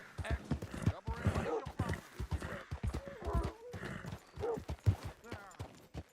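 Horse hooves clip-clop rhythmically while a horse whinnies in the video game Red Dead Redemption 2, with people talking over the sounds.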